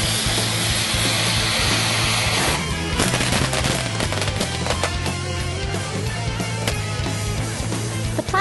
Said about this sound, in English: an NES game will be strapped to a ground firework